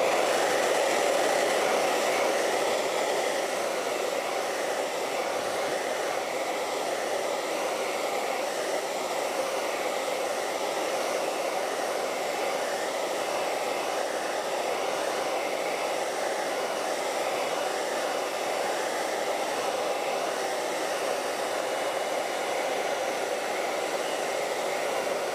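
A hair dryer drying acrylic paint on a canvas, running as a loud, steady, unbroken whoosh and whine from start to finish with no talk over it.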